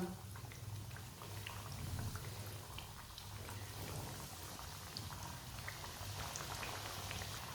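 Samosas deep-fry in hot oil with a quiet, continuous bubbling and crackling, like light rain, holding steady throughout with no talk.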